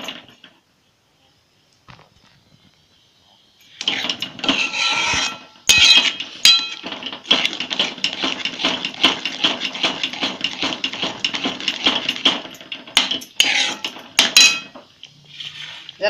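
A spoon scrapes and knocks steadily against a pan while matar paneer masala is stirred, a busy run of close metallic clinks and scraping that lasts most of the stretch after a quiet start.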